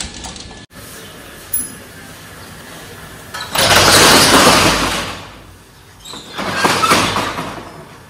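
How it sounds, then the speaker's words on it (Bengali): A motorbike is wheeled out of a garage in Kolkata, a sliding door rattles, then the engine starts and revs loudly nearby, dips, and revs again. "এই যে গ্যারেজ থেকে গাড়িটা বার করবে"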